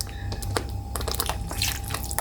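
About a cup of water pouring into a pan of masala while cooking malai kofta, a splashing liquid pour with scattered drips and sizzling bursts, close and moderately loud, no talk.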